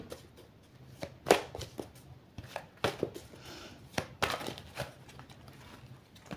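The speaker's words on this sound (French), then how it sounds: "Il y a 81 cartes en tout, donc je prends le temps de nous le mélanger." Large oracle cards from an 81-card deck being shuffled by hand, giving a series of soft papery riffles and slaps at irregular intervals, close and fairly quiet with no voice over them.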